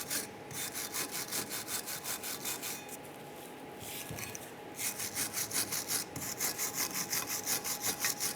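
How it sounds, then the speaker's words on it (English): A bristle brush scrubbing scaly rust and buildup off the brake caliper slides of a 1995–2001 Ford Explorer, a close rhythmic rasping in quick regular back-and-forth strokes with a short pause midway. "Use our bristle brush. Clean the surface, make sure there's no scaly rust or buildup."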